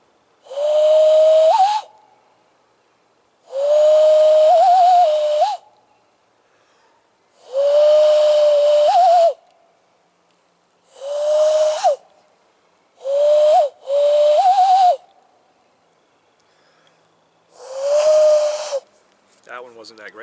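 A person whistles a taught bird call meant to imitate a quail or dove: six loud, breathy whistled bursts of one to two seconds each with a slight upward flick at the end, separated by pauses, close to the listener.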